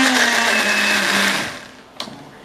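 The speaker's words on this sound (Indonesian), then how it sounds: "Kita blend juga." An electric blender grinds torch ginger flower with a loud steady whirring motor that winds down and stops, followed by a brief clunk.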